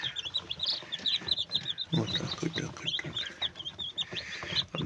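Newly hatched chicks from a home incubator chirp in rapid, high peeping bursts that run throughout, close by, with some low rustling and handling noise underneath.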